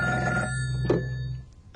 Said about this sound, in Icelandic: eins og ég sagði, þá hringdi síminn